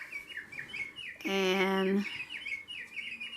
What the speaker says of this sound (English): what's that, house finch?